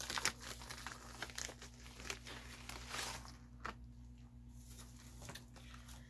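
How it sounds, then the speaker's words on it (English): A black plastic package is opened up close, giving continuous crinkling and crumpling rustles with a few sharper tearing bursts, fairly quiet and with no voices. "It is inside this black package, so I will open it up."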